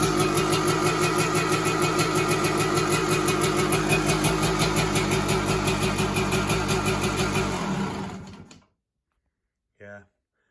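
A 1983 Yamaha YZ250K two-stroke motorcycle idles with a rapid, buzzy burble up close for about eight seconds, then cuts off abruptly into silence, followed by one brief faint sound.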